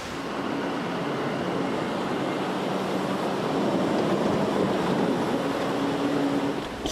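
Heavy water from a landslide-fed waterfall pours down onto a building in a constant, dense roar, loud and steady throughout with no voices.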